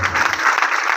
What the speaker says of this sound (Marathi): आमच्या गायक वादकांसाठी जोरदार टाळ्या.